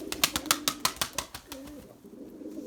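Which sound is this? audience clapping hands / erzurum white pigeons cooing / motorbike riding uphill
erzurum white pigeons cooing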